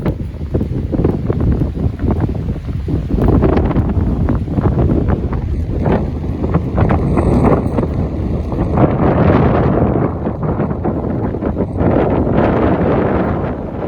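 Small motorboat crossing a lake, its engine drone and rushing water mixed with strong wind buffeting the microphone, loud and steady throughout.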